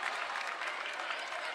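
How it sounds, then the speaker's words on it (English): A crowd at a high school boys varsity basketball regional championship claps in a dense, steady burst of applause, close and lively. "Excited crowd."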